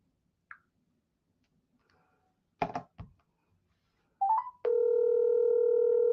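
A phone rings over a live phone call during an election results broadcast: brief clicks and bursts, then a loud steady electronic tone sets in and holds to the end.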